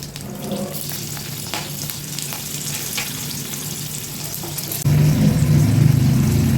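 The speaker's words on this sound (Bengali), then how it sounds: "একে একে দিয়ে দিচ্ছি তেজপাতা গোটা জিরে এক চামচ আর তিনটে কাঁচা লঙ্কা দিয়ে দিচ্ছি" Whole cumin, bay leaf and three green chilies frying in hot oil for a Bengali dal: a steady sizzle that bursts louder and thicker near the end as more ingredients hit the pan. No one speaks.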